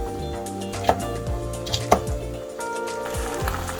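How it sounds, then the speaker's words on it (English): A knife cuts through scotch bonnet peppers on a board, with a few distinct chopping knocks at an uneven pace over a low background hum, close by and with no talking. "I'm going to slice up roughly 2 scotch bonnets"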